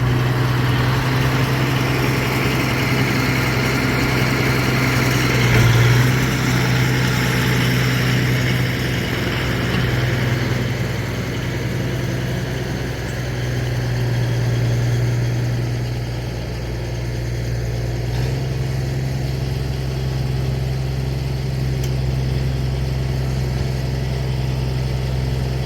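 A tractor engine drones steadily and loudly while pulling a Soil Mover scraper across a field, with a deep, constant low rumble and slight swells in load throughout, and no voices.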